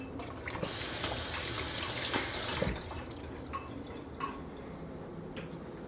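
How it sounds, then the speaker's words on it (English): A kitchen faucet runs steadily as cooked orzo is rinsed, a close continuous hiss of water with a few clinks of dishes and drips, no voices. "It says to rinse off the orzo and then kind of squeeze it out so it gets the excess water out of it."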